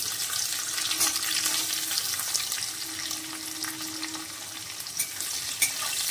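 Chopped onion frying lightly in a pan, before taro stolons go in: a continuous close sizzle with occasional spoon scrapes and faint clinks, no talking.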